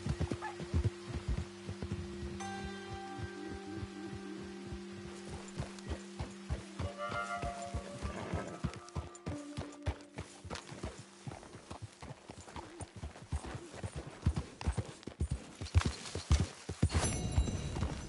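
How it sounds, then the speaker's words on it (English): Horse hooves clip-clop steadily in Red Dead Redemption 2, a continuous run of sharp, close hoofbeats over a low tonal game hum, with no talking. "Get that horse out of here."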